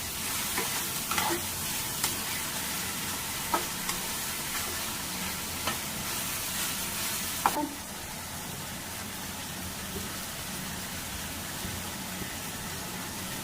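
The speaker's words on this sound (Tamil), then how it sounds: "எல்லாத்தையுமே வதக்கிக்கலாம்." Ingredients for an anchovy fish curry sizzle and fry in a pan while being sautéed, a steady close-up hiss broken by occasional clinks of a stirring utensil.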